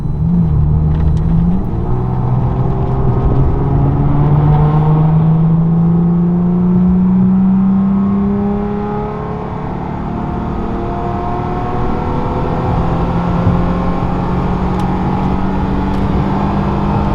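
An Infiniti G37 accelerating hard in a pull, its engine note climbing steadily through the gears with a brief dip at a shift, loud and close, no voices.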